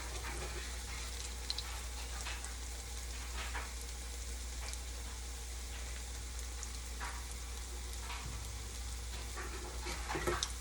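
Potato pancakes with onion and egg fry in a pan, giving a steady, soft sizzle with faint crackles and pops throughout and no talking.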